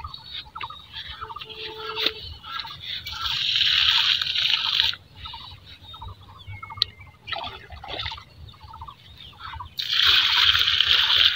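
Water splashes and trickles as it is poured from a mug onto the base of mango trees outdoors, in several bursts with quieter gaps between them, alongside faint background sounds.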